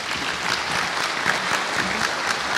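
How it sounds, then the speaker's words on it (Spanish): Audience at a medical plenary session on type 2 diabetes treatment applauds steadily, a dense wash of clapping hands that holds at an even level throughout, with no voices above it. "Les pido un fuerte aplauso para él, por favor."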